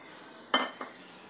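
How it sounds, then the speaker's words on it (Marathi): A metal pan set down on a stove, one clear clank followed by a softer second clink, close and brief against a quiet background. "पॅनमध्ये आपण तेल घालून घेत आहोत।"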